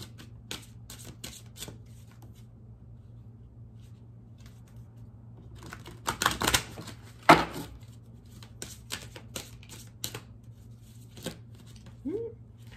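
Frequency or activation oracle cards are shuffled and drawn from a deck, with soft slaps, riffles and papery flicks scattered across a steady low hum and a louder cluster of card handling midway.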